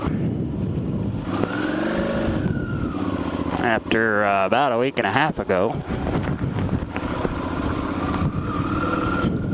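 Suzuki V-Strom motorcycle ridden down the road, its engine and wind rush steady throughout with someone talking over it nearly the whole time.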